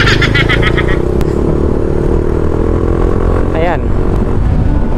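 Motorcycle engine fitted with a large-bore muffler revs up loudly nearby, a rough throaty roar rising and holding, with a brief higher whine near the end.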